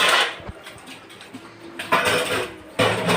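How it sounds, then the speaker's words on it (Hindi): Dishes and utensils are washed by hand at home, with metal pots clinking and scraping against each other in irregular bursts over running, splashing water, close and fairly loud. "मैं अच्छे से पहले ने धो लूँगी बर्तनों को"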